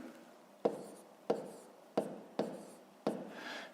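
Pen taps and strokes on paper while working out a decimal subtraction for a fifth-grade math exercise, five sharp evenly spaced taps each trailing into a brief scratch, close and alone.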